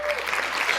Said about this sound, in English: A little bit of applause.